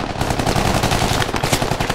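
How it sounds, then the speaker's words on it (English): Close, loud automatic fire from an AR rifle in the SquadOps video game, a rapid unbroken stream of cracks lasting the whole two seconds. "There's an AR that was just shooting at me from 3-2."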